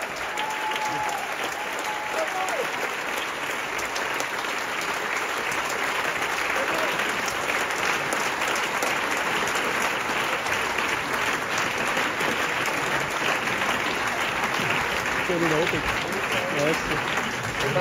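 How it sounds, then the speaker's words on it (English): A large audience at a Zurich film festival green carpet event claps continuously, a steady dense roar of applause that holds at full strength throughout, with faint voices underneath. "A big round of applause for the filmmakers."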